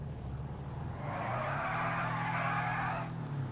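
A car in GTA 5 drifts and does a burnout, giving a loud, sustained tire screech over a steady engine drone that rises for about two seconds and then cuts off.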